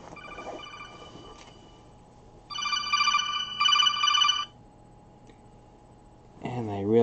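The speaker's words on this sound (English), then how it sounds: "Why is my phone alarm going off?" A smartphone alarm rings out indoors in loud, repeating electronic tone bursts, pausing, then starting up again at the end, with someone talking quietly beforehand.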